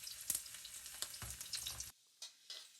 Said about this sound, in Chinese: 锅中加入适量的油，先将蒜片跟姜片放至锅中爆香